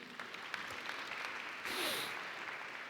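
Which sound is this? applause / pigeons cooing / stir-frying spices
applause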